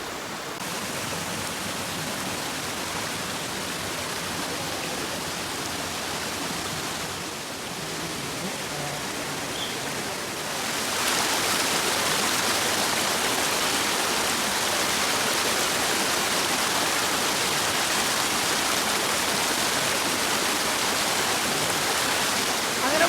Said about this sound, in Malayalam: വെള്ളത്തിൻ്റെ സൗണ്ടൊക്കെ നന്നായിട്ട് വരുന്നുണ്ട്